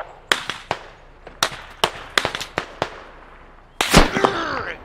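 Sharp, loud gunshots from a military video game set in Afghanistan, a US Army grenadier squad against insurgents: about a dozen separate cracks at irregular intervals, then a heavier burst of fire near the end.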